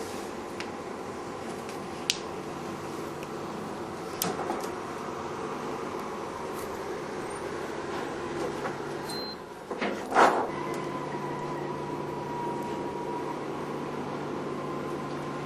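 A Discovery 80 laminating machine runs with a steady mechanical hum as laminate feeds through, broken by a few sharp clicks and a brief knock near the end.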